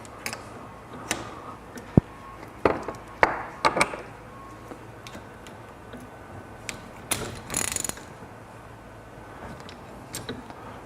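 Parts of a 4CS motorcycle fork inner cartridge being taken apart by hand, with scattered metallic clicks, ratcheting ticks and clunks at irregular intervals, close and fairly quiet.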